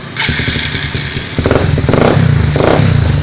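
A motorcycle fitted with an E-lock stealth alarm is started with the ignition key; the engine catches near the start and settles into a loud, steady idle with rhythmic pulsing, revving slightly, close to the microphone.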